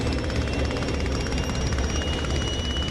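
Sopwith Camel WWI biplane engine droning steadily just after takeoff in the DCS flight simulator, a loud continuous rotary-engine roar with a constant propeller hum and no pauses.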